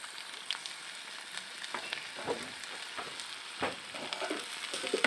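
Ginger-garlic paste fries in a pan with a soft, continuous sizzle, broken by irregular scraping and clicking strokes from stirring. The sound is close and fairly quiet, with no voices.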